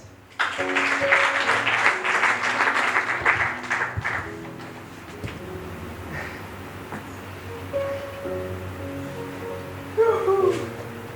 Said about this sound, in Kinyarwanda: mukomera amashyi.